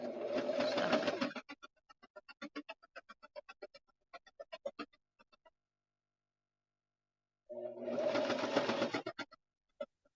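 A sewing machine stitches a fabric closure piece in two quick, even bursts, with light tapping clicks of the mechanism in between. The sound is close but fairly quiet, with no talking.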